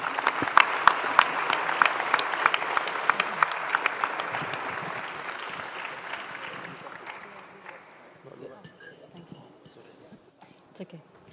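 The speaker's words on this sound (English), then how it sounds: "we need to give them really a very good round of applause." Conference audience in an atrium applauding facilitators and experts at a closing session, strong clapping with crisp individual claps that gradually thins and fades to scattered claps and faint clinks by the end.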